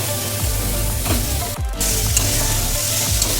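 Chicken with garam masala sizzles steadily while being stir-fried in a pan for a dhaba-style chicken bharta, with scraping and tapping from a spatula punctuating the hiss.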